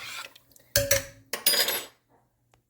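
A few metallic scrapes and clinks of a utensil stirring salted water in a pot, in short bursts separated by quiet gaps.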